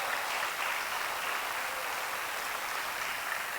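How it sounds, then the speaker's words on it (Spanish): Church congregation clapping steadily during a Spanish-language sermon, a dense, even wash of applause that holds at constant loudness throughout with no voices standing out. "Dale un fuerte aplauso a Cristo."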